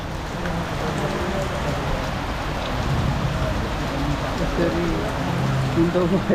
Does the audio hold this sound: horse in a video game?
no